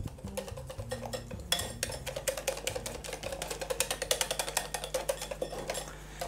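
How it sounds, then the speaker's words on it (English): Egg tempura batter is whisked briskly in a bowl, giving quick rhythmic clinking and scraping strokes that grow louder and faster midway, with a low steady hum underneath and no talking. "Now give it a really good whisk."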